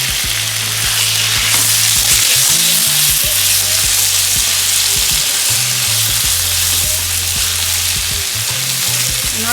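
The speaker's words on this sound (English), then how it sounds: "We're going to start adding our meat to this" Flank steak hitting a hot pan with browned onions sizzles loudly and steadily, a dense crackling hiss with low tonal hum beneath and occasional utensil taps, close and without voices.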